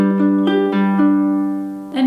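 Ukulele fingerpicking pattern for a song, with single plucked notes ringing in a steady, even rhythm over about two seconds, played close and clear with no voice.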